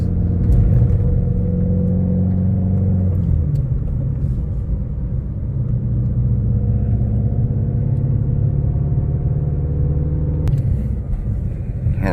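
A Ford Mustang GT350 on the road, its engine a loud, steady low rumble throughout, with a brief shift in pitch near the three-second mark and a change again after ten seconds as revs settle.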